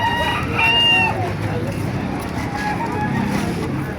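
A rooster crows once amid a busy chicken market, the call rising over a steady murmur of crowd noise and passing traffic.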